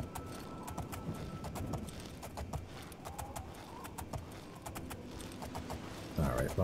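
Horse hooves clip-clopping in The Elder Scrolls IV: Oblivion, modded, a steady run of sharp footfalls under game ambience and music, ending in a louder burst.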